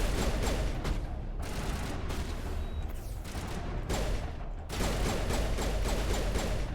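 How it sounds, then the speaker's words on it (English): Dense, continuous gunfire from the video game Mass Effect, with rapid overlapping shots and bursts running loud throughout, punctuated by sharper volleys and no pauses. "Why are you shooting at Garrus?"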